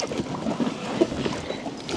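A motor boat speeding toward the shore on a pond while a fountain is being installed, heard as a close, steady rushing wash of water and wind noise.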